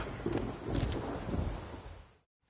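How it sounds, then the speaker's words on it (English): A thunderstorm with rain in The Witcher 3, a low rumbling roll with a steady wash of rain that fades out near the end, moderately quiet overall. "A storm, damn it."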